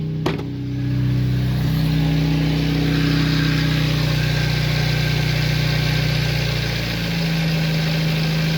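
A 1994 Nissan Sentra engine idles close by with a loud, steady low hum and drone after a brief start-up transient, its pitch shifting slightly near the end.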